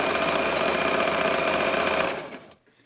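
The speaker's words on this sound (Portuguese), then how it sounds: "E aqui também só vamos fazer costura reta." A sewing machine runs steadily, stitching straight seams on felt and fabric for a glasses case, a continuous close whirring that slows and stops near the end.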